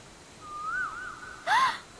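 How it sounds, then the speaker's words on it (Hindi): An Asian koel calls in a scenic outdoor spot, one clear rising whistle drifting and wavering for about a second, followed by a brief, sharper burst of sound, all faint and distant. "ये तो कोयल की आवाज है।"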